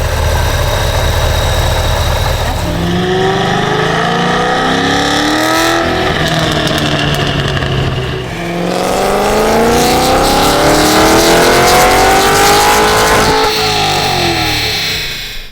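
Cadillac CT5-V Blackwing fitted with a Magnuson 2650 supercharger revs loudly up close, its engine climbing in pitch twice with a brief dip between, under a throaty, whining exhaust roar.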